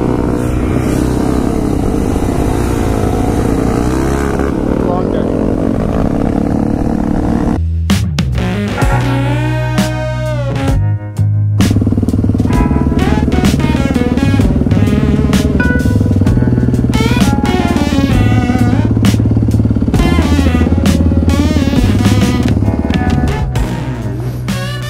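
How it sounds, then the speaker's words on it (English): A motorcycle rides along with a loud, close engine roar that shifts pitch as it revs and changes gear, with a brief cut partway through, and no talking over it. "It's fun riding around with Dana and girl on her bike for the short"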